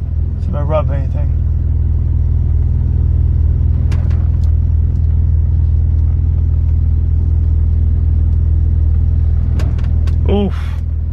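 A car pulls out of a driveway with a loud, steady engine rumble throughout, a couple of brief voice-like bursts and small knocks over it.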